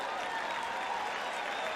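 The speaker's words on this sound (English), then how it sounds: "Man, this crowd is still buzzing, and rightly so." Baseball crowd at Dodger Stadium during a night game buzzing and applauding, a steady dense wash of clapping and murmuring voices filling the ballpark without pause.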